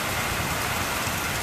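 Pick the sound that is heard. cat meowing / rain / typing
rain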